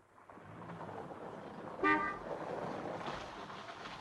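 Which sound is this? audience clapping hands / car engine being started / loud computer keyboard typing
car engine being started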